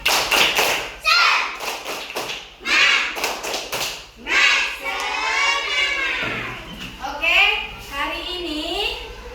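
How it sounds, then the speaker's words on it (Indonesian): A primary school class doing a rhythmic spirit clap together in a classroom, with sharp group claps in quick patterned bursts alternating with a teacher's voice and children chanting along. "kita sama-sama tepuk semangat"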